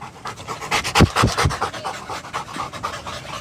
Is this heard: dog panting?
yes